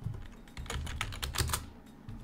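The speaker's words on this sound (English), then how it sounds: "and then type in icons 8" Keys clatter in quick, uneven bursts on a computer keyboard while a web address or search term is typed into a browser, close and clear with no voices.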